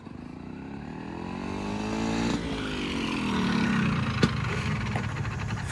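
Restored Vespa 50 Special scooter engine idling and being revved slightly higher, a steady close buzzing drone that rises in pitch, with a couple of sharp clicks near the end.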